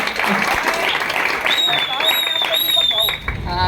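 Audience applause for a singer at a devotional aarti program, steady clapping from a crowd mixed with someone talking over a microphone and a high sustained musical tone.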